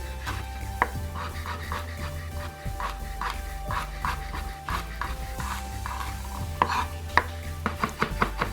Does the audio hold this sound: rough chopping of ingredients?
yes